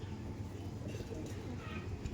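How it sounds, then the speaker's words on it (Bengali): Female pigeon at a loft of flying pigeons, cooing softly amid steady background noise and low rumble, with someone speaking over it. "এটা হচ্ছে ফিমেল পায়রা, হচ্ছে ফিমেল পায়রা।"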